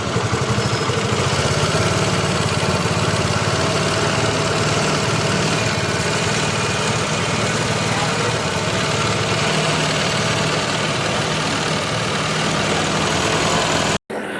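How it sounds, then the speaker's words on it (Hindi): A Hero Duet scooter engine runs at a steady idle close by after a full engine refit, giving a continuous even drone with no voices, then cuts off abruptly at the very end. "आइए गाड़ी को स्टार्ट करके स्ट्रोक चेक करते हैं"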